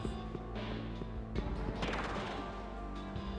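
A sealed glass door smashes in the video game SMT III Nocturne, a loud crash with scattered shattering debris over a steady game soundscape.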